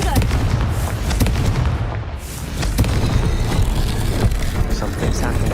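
A Confringo blasting curse explodes in the Hogwarts Legacy video game with a heavy, booming burst followed by rumbling blasts and debris, loud and close, while a voice speaks around it.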